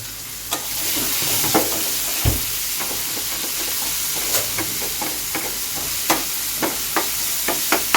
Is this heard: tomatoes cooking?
yes